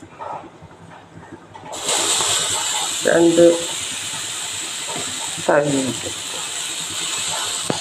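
Wheat and urad dal dosa batter is poured onto a hot pan and breaks into a loud, steady close sizzle that keeps hissing on, while someone talks briefly over it.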